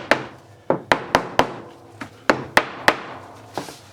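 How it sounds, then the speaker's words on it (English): A mallet taps wood laminate pressed into a bowl mould for cold molding, about ten sharp, close wooden knocks in an uneven rhythm, each ringing briefly before the next. "You might want to go around as well with a mallet to make sure everything's nice and level."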